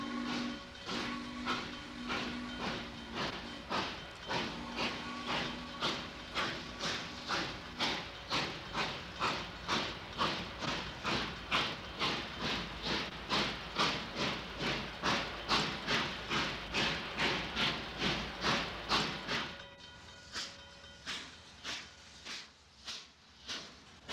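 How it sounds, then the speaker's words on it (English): Southern Pacific train from the 1950s rolling across an overpass near Santa Clara Street in San Jose, rapid steady clacking of wheels over rail joints, loud and close, easing off toward the end. "We see the train cross over Santa Clara Street."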